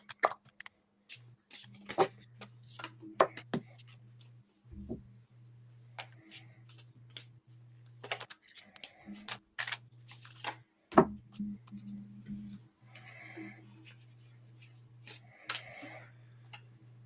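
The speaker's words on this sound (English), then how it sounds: "I can shuffle the cards right now." Tarot cards are shuffled in quiet bursts of soft flicks and riffles, faint and close, with a low steady hum beneath and no talking.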